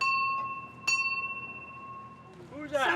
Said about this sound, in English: Somebody ringing the bell?